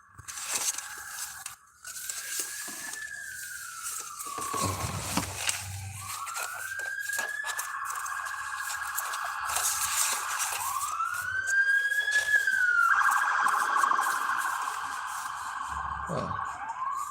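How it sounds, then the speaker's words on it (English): An ambulance siren wails, rising and falling in long sweeps, loud and close, steady throughout with traffic rumble beneath. "Ambulance."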